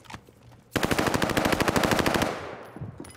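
A decoy grenade in a video game imitates machine-gun fire with one sustained, rapid burst of loud, evenly spaced shots lasting about a second and a half, followed by fading echoes and faint background noise.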